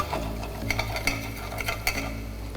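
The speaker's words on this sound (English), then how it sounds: "To this pan, we are going to add our vegetables. Allow them to saute." Vegetables sautéing in a pan, a low continuous sizzle with a few light clinks and scrapes of a utensil against the pan, close and moderately quiet.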